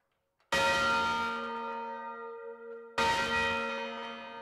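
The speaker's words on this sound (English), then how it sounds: "Before we hear this bell ring, we need to put our ear muffles on." Church tower bells ring very loud and close, with two heavy strikes whose long metallic tones hang and decay.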